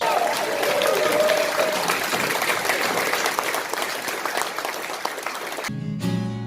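Audience at a Te Whakaora Tangata fundraiser for Auckland Rotary breaks into loud, sustained applause, a dense roar of clapping with a brief vocal whoop near the start, ending abruptly as music begins.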